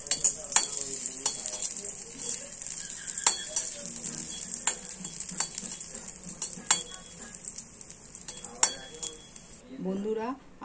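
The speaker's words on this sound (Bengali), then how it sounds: "আমরা কিছুটা কাজু কিশমিশ এই তেলের মধ্যে দিয়ে হালকা করে একটু ভেজে নেব" Cashews and raisins fry in oil in a pan, giving a light sizzle broken by sharp clinks and scrapes of a metal spoon stirring against the pan.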